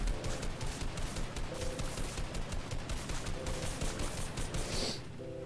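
Bursts of gunfire in Fortnite play as a target is tracked. Rapid repeated shots crackle continuously at low volume for about five seconds, then cut off near the end.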